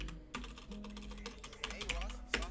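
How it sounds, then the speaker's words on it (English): Keys tapped on a computer keyboard while a terminal command is entered, a quick irregular run of close, soft clicks that lasts a couple of seconds under a faint background. "we're going to type in sudo dnf and then install"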